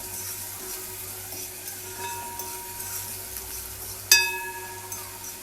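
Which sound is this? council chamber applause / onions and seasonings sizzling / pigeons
onions and seasonings sizzling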